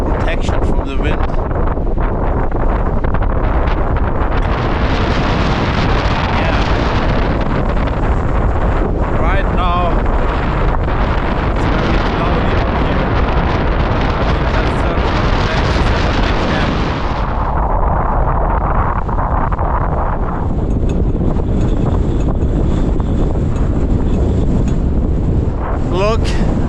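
Strong wind roars across a mountain summit beside a stone shelter, buffeting the microphone with a loud, constant rumble and gusting surges throughout.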